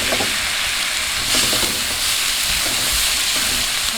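Onion, curry leaves and tomato fry in a pan with a dense, continuous sizzle and hiss, broken by soft stirring scrapes.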